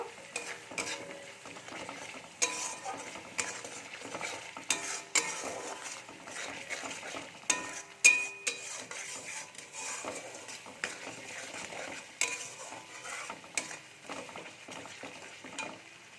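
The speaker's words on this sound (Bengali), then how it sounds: "মশলাটা খুব ভালো করে কষিয়ে নেব।" Turmeric and Kashmiri chilli powder with salt stir-fried in a pan, with steady scraping of a spoon, intermittent metallic clinks and a soft sizzle running throughout, close and moderately loud.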